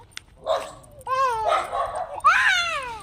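A nearby dog gives a few short, high yelping barks and whines in quick succession.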